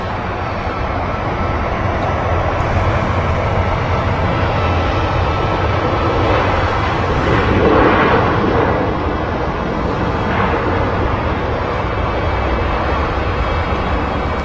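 Airliner on its takeoff run from an intersection at Manchester Airport: a loud, steady broadband engine roar that holds for the whole stretch and swells slightly midway, with no voices.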